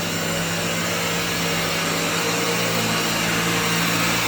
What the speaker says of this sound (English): So you have to take extra time to suck out the dust.